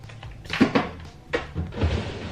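A kitchen drawer holding bottles of juice is pulled open, giving a few near wooden thunks and sliding knocks over about two seconds with no talking.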